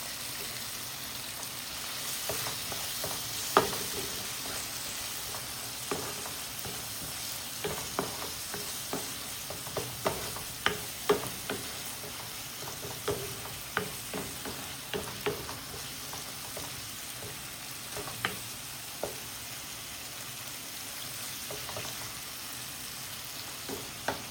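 A spoon scrapes and stirs chili powder and spices into a sizzling pan for a fish dish, with irregular clinks and scrapes over a steady low frying hiss.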